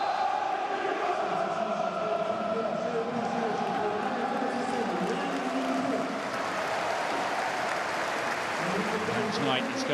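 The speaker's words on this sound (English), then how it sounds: "Warm applause for him all around Loftus Road" Stadium crowd at Loftus Road during a Championship football match between Queens Park Rangers and Derby County, a broad, sustained wash of clapping and crowd noise filling the ground, with a commentator's voice running over it.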